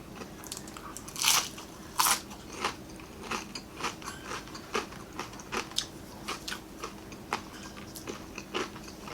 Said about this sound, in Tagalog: Malutong din po yung kangkong, masarap.